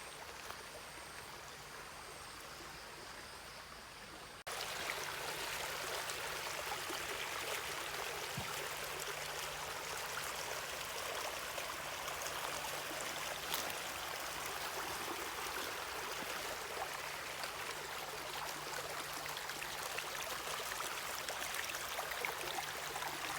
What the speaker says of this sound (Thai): วันนี้ฝนหยุดแล้วห้วยแตกเมื่อวาน ยังมีน้ำไหลออกมาจากป่า